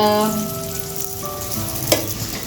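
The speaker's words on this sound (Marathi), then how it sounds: "तर आता आपण सगळेच जे पीस आहेत ते दुसऱ्या बाजूने छान तळून घेऊ" Rawas fish pieces fry on their second side in hot oil: a dense, steady, close crackling sizzle with a faint tonal ring, and one sharp clink near the end.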